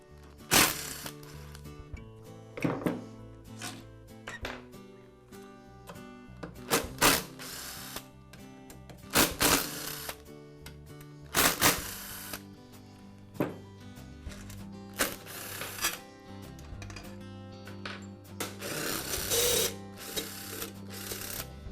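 Fasteners are backed out of the rear housing of a DeWALT scroll saw during a PC board repair, heard as a series of loud, close ratcheting bursts separated by short quiet gaps.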